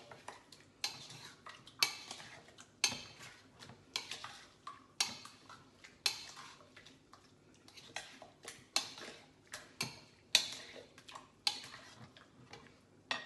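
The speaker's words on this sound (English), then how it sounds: "You have to first give that a mix. Mix it well." Metal utensil clinks and scrapes against a bowl in a steady, repeated rhythm while a tandoori chicken marinade is mixed, close and fairly quiet with no talking.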